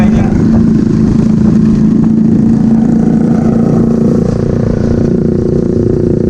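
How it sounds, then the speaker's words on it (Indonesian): A loud, close motorcycle engine drones steadily with a low hum and some clattering, filling the whole stretch, in Gandus, Palembang. "Ada motor ini."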